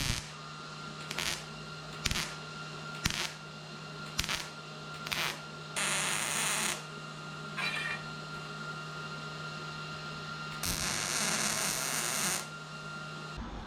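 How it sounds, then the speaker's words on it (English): Welding on a 1977 Datsun 620 pickup: a series of short crackling tack welds in a regular rhythm, then two longer sizzling weld runs, all over a steady low electrical hum, with no voices. "Now weld that baby up."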